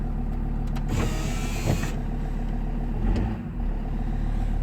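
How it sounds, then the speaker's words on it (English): Land Rover Discovery 2 with a TD5 diesel engine on a cold start: a brief noisy crank burst, then a steady low diesel idle with a few small bumps in the running note. "This is a cold start, so there's no cheating involved."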